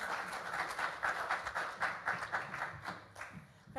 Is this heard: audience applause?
yes